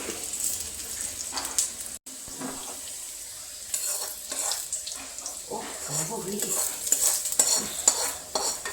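Oil sizzles and crackles steadily as a tempering is poured into a pot of raw plantain curry, with stirring and scraping noises close by.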